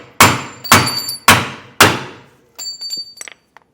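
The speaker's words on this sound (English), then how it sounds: "And then I'll take my hammer and we'll pop this out." Four sharp, ringing metal hammer strikes land in a steady rhythm on hanger bolts during an RV shock-absorbing equalizer installation, followed by softer metallic clinks and rattles.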